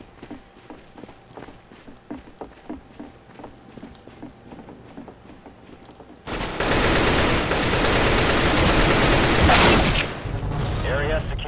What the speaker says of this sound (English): I cannot hit anything with an AK any longer.